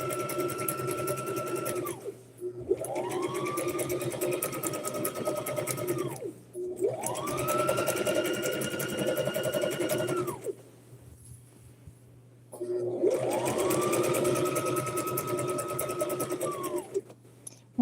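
A sewing machine runs in four long stitching bursts, each a steady whirring drone with brief pauses between, close and fairly loud with a low hum underneath.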